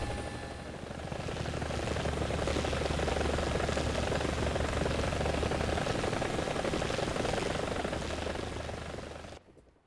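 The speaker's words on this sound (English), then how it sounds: "that is the Mi-24, otherwise known as the Hind or the Crocodile" A Mi-24 Hind attack helicopter in the War Thunder video game runs its rotor and turbine engines. A loud, sustained whine and beating roar swells in, holds steady, then cuts off abruptly near the end.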